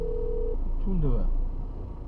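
A telephone ringback tone sounds as a steady tone for about half a second, with a brief warbling voice-like sound after it over background hum, heard while calling about car camping at a beach site.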